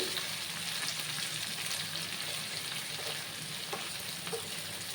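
A frying pan of potatoes cooked with fish roe and onions sizzles steadily while a spatula stirs and scrapes through the mixture, a close and continuous frying hiss with no voices.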